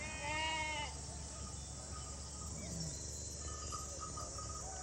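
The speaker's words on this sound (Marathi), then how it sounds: "हे जे दिसून राहिल्या ही पूर्ण बकऱ्या आहे" Goats on a Maharashtra village procession route bleat near the start, a short wavering cry over steady outdoor hum with insect chirring, followed by faint scattered animal calls further off.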